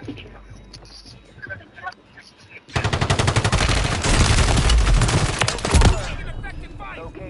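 Video game gunfire: a loud, rapid automatic burst of shots rattles for about three seconds after quieter moments, with voices talking before and after.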